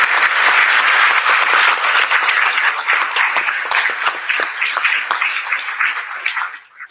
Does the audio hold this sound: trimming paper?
no